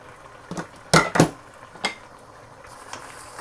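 Kale and broccoli saag cooking in a pot: a few close metallic clanks and scrapes of a utensil against the pot, two louder knocks close together, over a quiet background with no talk.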